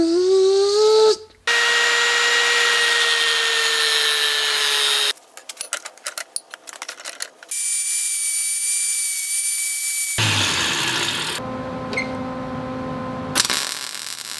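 A power tool cutting a notch wider in metal stock for a small DIY welding and fabrication table, loud whining bursts broken by short pauses and changes in pitch, with no talking.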